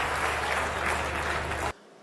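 Audience applause at a Hindi comedy and poetry stage show, a dense burst of clapping from a crowd that cuts off abruptly into near silence.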